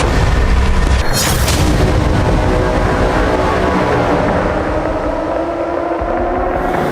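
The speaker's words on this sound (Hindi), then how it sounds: "विस्फोटकों के जरिए टनल्स को तबाह किया जा रहा है।" A loud, rumbling blast from explosives destroying tunnels in central Gaza roars and keeps churning for several seconds, a heavy sustained boom with debris-like noise and no voices.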